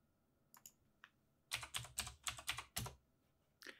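Keys on a computer keyboard are typed to enter a value: a few isolated taps, then a quick close run of clicks and a final keystroke.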